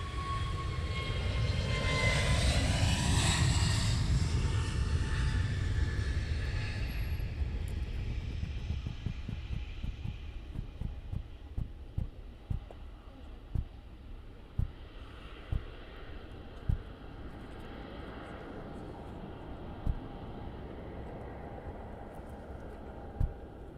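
A BAe 146 jet inbound to Luton Airport on a foggy day under a 700-foot cloud base, heard as a loud, broad engine roar that builds and then fades away, leaving a steady distant rumble with occasional sharp taps.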